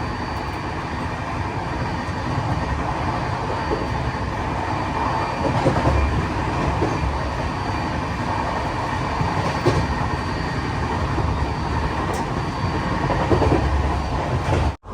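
The Vivek Express runs toward Kharagpur with a continuous close rumble of carriages and faint rhythmic wheel clicks, steady throughout with no voices.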